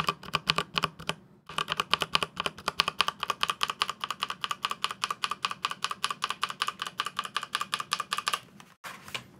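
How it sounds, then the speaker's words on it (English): Keys on a Logitech G413 TKL SE mechanical keyboard clack in a fast, steady run of sharp clicks, close and crisp, with a brief pause near the start and another near the end. "let's do an ASMR key clicky test"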